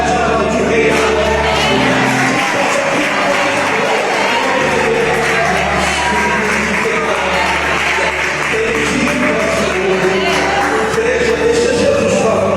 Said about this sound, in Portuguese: Quem pode aplaudir bem agora?